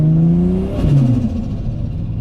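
A car with a freshly repaired gearbox accelerates hard on a highway in a 100 km/h zone, its engine note rising loudly through the revs, dipping at a shift, then climbing again close to the listener.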